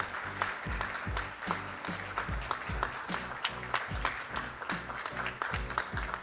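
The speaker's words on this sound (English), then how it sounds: "A round of applause, please." An audience at a formal event claps together in sustained, steady applause, a dense wash of many hands heard from within the room, with faint voices underneath.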